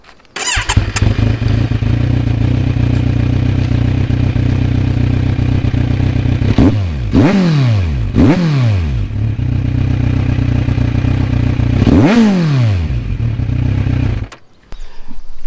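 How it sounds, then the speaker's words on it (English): Kawasaki Ninja 1000 fitted with an SC Project CRT exhaust, idling loud and close with a deep burble, then four quick throttle blips rising and falling before the engine cuts off. "I'm just gonna give one single rev bomb so that you see this all here"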